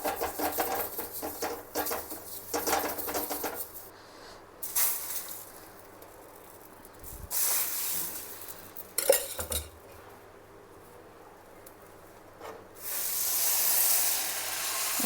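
A cut onion rubbed and scraped across the surface of a new cast iron pan, scratchy metallic rubbing in uneven bursts with hissy sizzling stretches between, close up and without speech.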